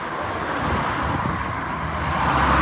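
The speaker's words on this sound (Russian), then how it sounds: "Машины ездят" Cars on a road drive by, a continuous broadband traffic rush with wind noise on the microphone, swelling slightly near the end as a vehicle approaches, with no talking.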